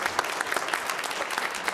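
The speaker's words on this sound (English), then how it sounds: "Let's give her a round of applause" Applause at a combined council meeting for an honoree named Hillary, a brief burst of many hands clapping in a room, fairly close and dense.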